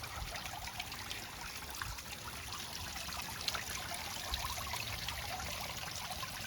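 A gentle trickle of water falling into a garden pond from a 300 GPH pump, steady and fairly quiet, with a faint continuous background hum.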